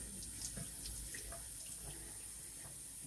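Tap water runs steadily over a razor as it is rinsed face down, with soft splashes and drips close by and no talk.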